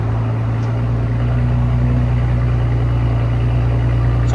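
A 2023 Porsche Cayenne S with a 2.9L twin-turbo V6 and straight-piped exhaust idles close by, giving a loud, steady, droning burble with a constant low pulse and no revving.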